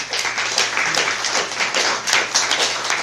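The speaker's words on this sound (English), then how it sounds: "So a round of applause for David." Small audience at a Long Island music-community gathering clapping for David, a brisk, fairly close patter of individual hand claps that stays steady and moderately loud for a few seconds with no voices.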